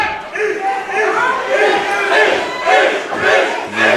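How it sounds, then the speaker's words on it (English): A pro wrestling crowd at the United Irish Cultural Center in San Francisco cheers and chants in rising, rhythmic swells, loud and reverberant, with a commentator's voice faintly mixed in. "You hear the crowd getting behind Ishmael Vaughn."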